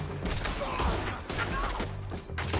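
A video game shootout around a jailhouse, with dense, chaotic bursts of gunfire and crashing impacts at close range throughout, and shouting voices mixed in.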